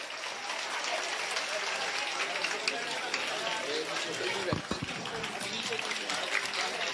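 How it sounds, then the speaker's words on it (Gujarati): A school audience at a primary school admission ceremony claps loudly and steadily, a dense wall of applause that carries through the whole stretch without pause. "જોરદાર તાળીઓ."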